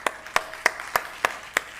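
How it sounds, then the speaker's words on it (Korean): Applause at a church youth service, heard as six sharp, evenly spaced claps in a steady rhythm, fairly close and moderately loud with no talking. "우리 강병재 박수 한번 쳐줍시다"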